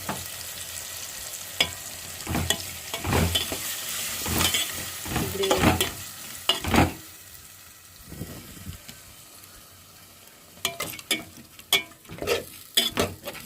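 A tomato and onion paste is stirred as it fries in a pan. Repeated scraping strokes come over a soft, continuous sizzle, close by and with no talking.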